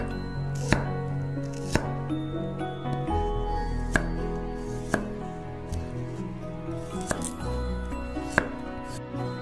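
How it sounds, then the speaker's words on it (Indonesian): A knife slices thinly through shallots and garlic on a cutting board, sharp, regular knocks roughly once a second, close and clear over a faint background hum, with no talking. "Ada 5 siung bawang merah dan 2 siung bawang putih. Kita akan iris tipis semuanya ya."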